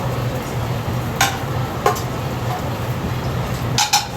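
Shallots sizzle in olive oil in a hot pan, a steady close frying hiss with a low hum beneath, broken by a few sharp utensil clinks against the pan.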